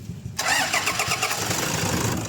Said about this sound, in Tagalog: tapos pa-start nyo na itong makina